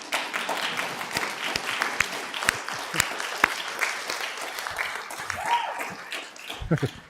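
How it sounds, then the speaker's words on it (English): Listeners clap after a talk on mindfulness and loving-kindness, sustained applause with sharp individual claps standing out, with voices and laughter mixed in toward the end. "if you're going to clap, clap."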